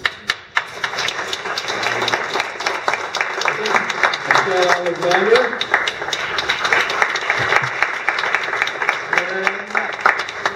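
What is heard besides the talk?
applause for volunteers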